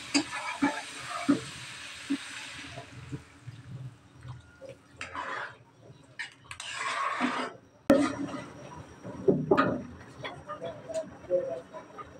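Water is poured into a pan of cauliflower curry and meets hot spices with bursts of loud hissing and bubbling, broken by pauses and utensil clatter, with brief speech heard nearby.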